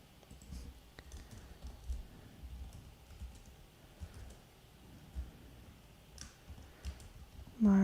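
Quiet, steady tapping of computer keys, a run of soft clicks with brief pauses, close by.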